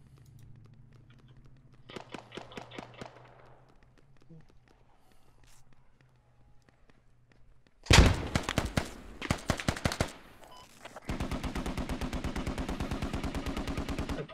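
Gunfire in the military shooter game Squad: a short burst, then loud close automatic fire and a long, rapid, evenly spaced machine-gun stream, mixed with footsteps and a player talking.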